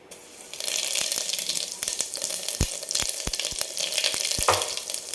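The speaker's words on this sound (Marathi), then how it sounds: "तेल छान कडकडलं की याच्यामध्ये आपल्याला मोहरी टाकायचीच नाही डायरेक्ट जिरे टाकायचे तर जिरे आपण टाकून घेऊ" Cumin seeds tossed into hot oil, sizzling and crackling close up with a loud, steady frying hiss, punctuated by sharp pops and clinks of a spoon against the pan.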